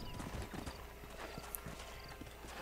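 Horse hooves clip-clop at a steady trot in the Red Dead Redemption game, faint and slightly distant, under a low background hum with no talking.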